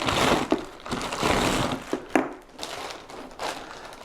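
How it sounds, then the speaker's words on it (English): Close plastic bag crinkling and rustling while a Neewer LITETRIP LT32 tripod is unboxed, with bursts of crackling handling and a few sharp crinkles, without talk. "another plastic bag."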